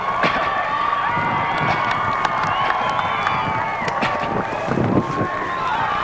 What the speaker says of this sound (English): Crowd on both sides at a fever pitch